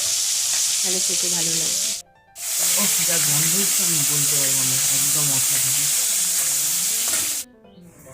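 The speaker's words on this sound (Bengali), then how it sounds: "এবারে মাছের মাথা আমি কড়ায় ছেড়ে দিই। এটা ভালো করে ভেজে নিতে হবে, লাল লাল করে, বেশ কড়া করেই ভাজবে" Katla fish head sizzling and frying in hot oil in a wok, a steady loud hiss running throughout with brief breaks, while a person talks over it.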